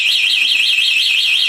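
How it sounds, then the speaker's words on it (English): A loud electric bike anti-theft alarm siren, set off by turning the pedal crank, warbles rapidly up and down in a fast, steady cycle, piercing and continuous with nothing else audible. "turning the pedal crank immediately triggers a loud siren"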